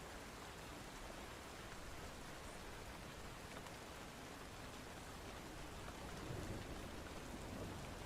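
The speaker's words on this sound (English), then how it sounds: "Oh, this rain is very cozy." Steady rain ambience plays as a cozy background, a dense, even patter of falling rain that holds at a constant moderate level throughout.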